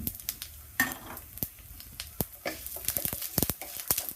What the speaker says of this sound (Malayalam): നല്ല ജീരകം ഹാഫ് ടീസ്പൂൺ അത് ഇട്ട് കൊടുക്കാം